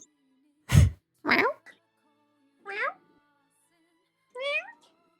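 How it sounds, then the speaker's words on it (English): A cat meows three times in short, rising and falling cries spaced about a second or more apart, preceded by a brief human vocal burst, heard fairly close in an otherwise quiet room. "he heard the cat"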